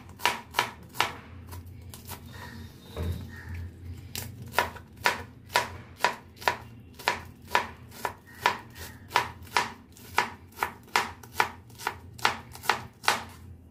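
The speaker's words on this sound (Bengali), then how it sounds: "এই মোচাটা কেটে নিই" Steady knife chops through a banana flower on a board for a vegetarian mochar ghonto, each crisp stroke evenly spaced in a brisk, regular rhythm, close and clear with no voices.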